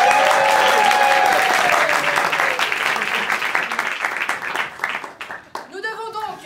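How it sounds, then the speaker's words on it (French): An audience applauds the participants of an improv show, and the loud, dense clapping fades over several seconds as a voice starts speaking near the end. "On peut applaudir nos participants."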